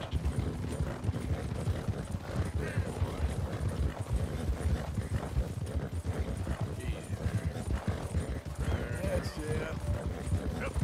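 Horses gallop in a long distance race over firm ground, a brisk rhythmic clip-clop of hooves running continuously under a commentator's voice.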